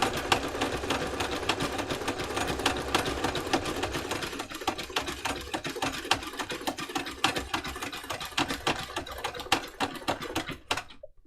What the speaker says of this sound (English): when you free machine embroidering, always remember to put your foot down